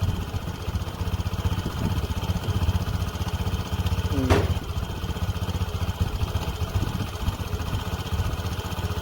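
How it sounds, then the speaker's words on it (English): A Piaggio Medley 125 scooter from 2016 idles steadily with a low, even engine putter, fairly faint and continuous, with one brief sharper sound midway. "I'm gonna leave the engine on for a while."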